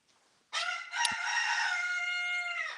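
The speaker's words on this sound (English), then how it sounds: "there's a master rooster, and he does the crowing" A rooster crows once, loud and close, in a long sustained call standing alone after a quiet start.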